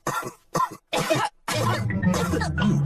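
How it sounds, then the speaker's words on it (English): Cartoon grown-ups in a children's animated show cough in several short harsh fits separated by pauses, then a longer stretch of overlapping coughing with a low hum beneath, close and loud. "Oh dear, all the grown-ups have caught Pedro's cough."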